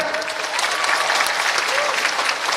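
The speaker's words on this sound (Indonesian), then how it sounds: "Sekali lagi kita berikan aplaus buat Mas Ganjar" A student audience at a university question-and-answer session for presidential candidate Ganjar Pranowo applauds in a dense, steady wash of clapping throughout, with a few voices faintly mixed in.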